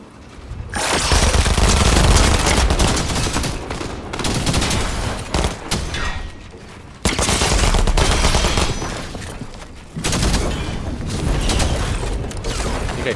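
Gunfire in Fortnite: loud, dense bursts of rapid shots come in several long volleys separated by brief pauses, with mechanical clatter between them.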